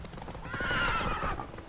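Geralt's horse Roach in The Witcher 3 video game, a short burst of close hoof clip-clops with a brief whinny rising over them, heard alone without talk.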